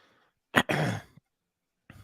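A single cough during a tennis podcast recording, one sharp burst followed by a short rough tail, close and fairly loud against near silence, then a faint trailing breath.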